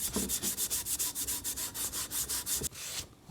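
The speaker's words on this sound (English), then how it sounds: "I'm going to go over it with some Ballistol and some Scotch-Brite" A Scotch-Brite pad with Ballistol scrubs a cutting mattock head in quick rhythmic strokes, about a dozen rasping rubs close up, ending in a short pause.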